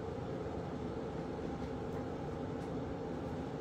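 A train races along with a steady, heavy rumble and rattle of rail cars, continuous and fairly loud with no voices, like the Polar Express speeding northward through the night.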